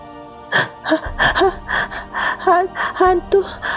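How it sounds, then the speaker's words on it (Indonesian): A voice gasps and pants in short, rapid breaths, sounding out of breath and strained, close and loud. "Ia bicara dengan suara terengah-engah."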